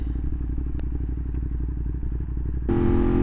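A motorcycle engine chugs in a steady, throbbing rhythm up close, then the pitch jumps and it roars louder as the bike pulls away.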